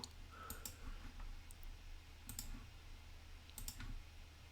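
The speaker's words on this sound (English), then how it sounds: "Now you can click the submit button." Light mouse clicks sound close and quiet over a low room hum as the submit button is pressed on a computer, with a few short clicks spread across the moment.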